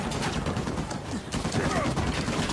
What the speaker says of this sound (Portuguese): estás a levar de tiros, Nathan